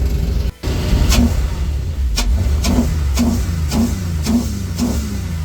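An LS V8 engine idles in a parked car with a steady, loud, low rumble, with a brief dip near the start followed by a series of regular soft pulses.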